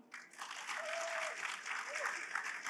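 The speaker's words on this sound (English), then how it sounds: "And a round of applause for storytelling." Audience applause at a live gameshow on stage, dense steady clapping with a few whoops rising through it, close and fairly full.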